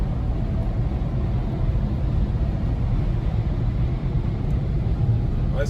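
A Porsche Cayenne 957S fitted with Chinese tyres driving, heard from inside the cabin as a steady, loud low rumble of engine and road noise with no clear breaks.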